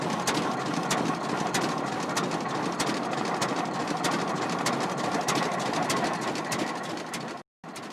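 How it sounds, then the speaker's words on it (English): An old, unrestored engine at a 2004 antique tractor gathering in Portage la Prairie, Manitoba, running steadily as it drives around a field, a continuous chugging drone with regular sharp ticks, briefly cut off near the end. "Once started, this old and unrestored engine took a drive around the field."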